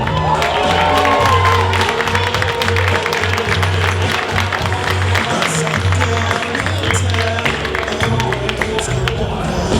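An audience at a DreamHack Winter cosplay stage show claps and cheers for a cosplayer in Monster Hunter armor, sustained dense applause with scattered whoops under a steady background hum throughout.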